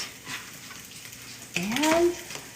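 Spam fried rice ingredients sizzling in a hot pan, a steady close frying hiss that swells louder partway through as stirring begins, with a faint rising whistle-like tone over it.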